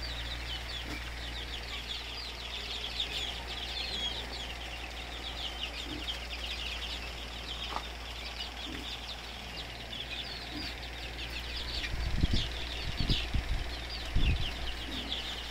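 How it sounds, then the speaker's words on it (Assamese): Dense, continuous high chirping from a shed of about 140 Kadaknath chicks, many small peeps overlapping steadily over a low fan hum, with a few louder thumps and bumps near the end. "এয়া কাডাকনাথ মুৰ্গী পলি"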